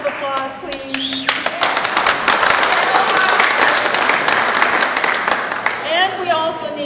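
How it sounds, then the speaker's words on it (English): An audience at a cultural diversity foundation fundraiser at City Hall breaks into loud, dense applause that swells and holds for several seconds, with a voice speaking briefly at the start and again as the clapping tapers. "Can you give her another round of applause, please?"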